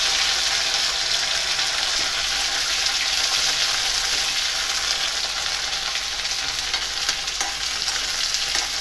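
Okra cooking uncovered in hot oil in a pan for a dhaba-style achari dry bhindi dish, sizzling and crackling steadily at close range throughout, with no voices.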